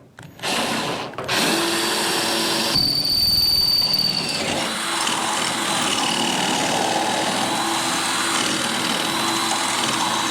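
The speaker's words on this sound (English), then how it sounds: "So let's drill that hole right about" A power drill bores a hole in a boat for wiring, whirring steadily and loudly up close for several seconds after a brief start-up.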